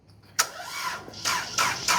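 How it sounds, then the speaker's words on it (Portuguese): A car engine is cranked and fires up, with a sharp starter burst followed by rough, surging catches as it settles toward idle, fairly quiet and close. "Vamos dar partida no carro."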